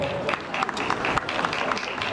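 Crowd applause for the knights after a combat tournament bout, a steady dense wash of clapping with scattered louder claps, with a voice talking over it throughout.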